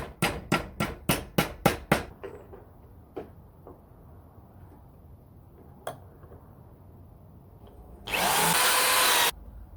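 Seven loud, evenly spaced bangs open the scene, then scattered knocks, and a harsh grinding burst from a drill with a worn bit runs for over a second near the end.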